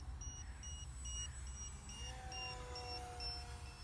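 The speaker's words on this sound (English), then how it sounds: "the buzzer went off" A faint, repeated electronic beep sounds at an even rhythm, over a low steady engine-like drone.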